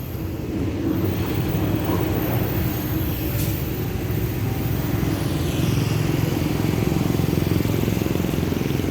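A train shunting rumbles steadily close by, a continuous heavy mechanical drone with a brief high squeal of metal partway through.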